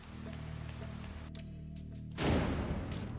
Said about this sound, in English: It's raining outside right now.